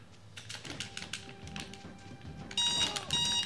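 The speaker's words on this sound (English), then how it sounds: "there's the alarm" An alarm goes off in The Scorpion King, a GameCube, Xbox and PS2 action game, as a bright repeating electronic ring in the final second over a run of earlier clicks and game sounds, fairly faint overall.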